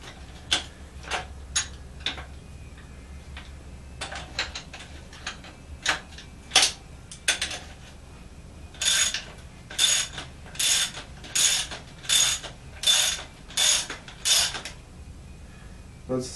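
Ratcheting socket wrench tightening an aluminium nut on a Showa fork from a CR 250, with sparse clicks at first, then a run of regular, crisp ratchet bursts close up in a quiet room.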